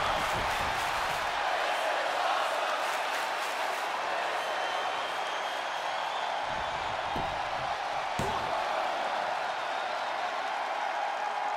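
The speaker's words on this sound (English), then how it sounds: "The roar of this crowd has been building." A large wrestling arena crowd roars steadily and loudly throughout, a dense, continuous wash of cheering with a few sharp thuds and slams poking through.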